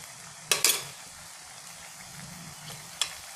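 Spices such as coriander powder and red chilli frying in gravy for khoya paneer and being stirred: a loud scraping stir near the start, soft sizzle in between and one sharp clink of a spoon near the end.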